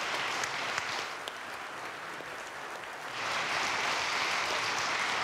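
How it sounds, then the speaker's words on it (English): A church congregation gives a round of applause, steady clapping that swells louder about midway and stays full to the end. "Give one more round of applause."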